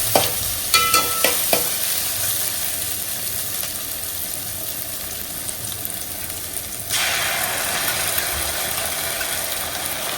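Ginger garlic paste sizzles and fries in a pan while being stirred, with a few sharp scraping clinks early on and the frying hiss swelling louder partway through; no one speaks.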